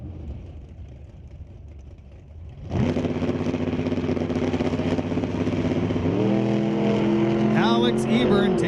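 A 1972 Mustang drag racing car launches down the strip at Mission Raceway Park, a sudden loud engine roar bursting in after quiet crowd noise, then a sustained rising harmonic drone as it pulls away, gear change near the end.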